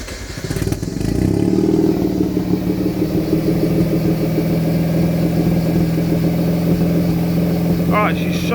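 A car engine running rich at idle holds a steady, throbbing low drone after a brief rev at startup. A voice speaks briefly near the end.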